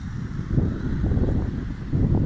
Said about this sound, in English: Very windy, guys.